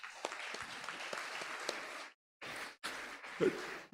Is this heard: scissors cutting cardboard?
no